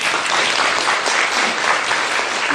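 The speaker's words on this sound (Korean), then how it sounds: "우리 천정궁 입궁 대관식 우리 다시 한번 큰 박수로 축하드립니다." A church congregation applauds loudly for a coronation ceremony during Sunday worship, thick continuous clapping from a large crowd with no voices on top.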